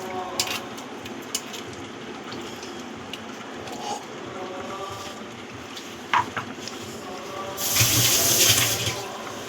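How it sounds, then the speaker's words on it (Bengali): Tap water runs steadily into and over a kitchen mixer jar being rinsed, a continuous splashing stream with a louder gush near the end. "মিক্সিং জারটা ধুয়ে একটু জল দিয়ে দিচ্ছি।"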